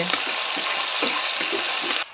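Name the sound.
chopped onions frying and stirred in hot oil in a wok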